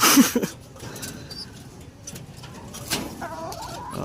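Pigeons in a breeding loft, close by, with a short loud burst at the start followed by soft coos and gurgling calls against quiet background rustle.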